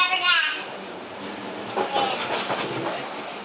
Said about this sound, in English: Wobbly train.